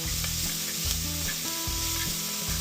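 Onions fry in a pan with a bright, constant sizzle, while rhythmic stirring scrapes and thumps repeat about every half second close up, with no talking.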